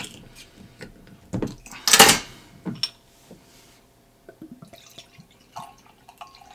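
Founders KBS stout poured aggressively into a glass, heard as a cluster of splashing, gurgling bursts peaking around the middle, followed by quieter drips and small clinks with no talking.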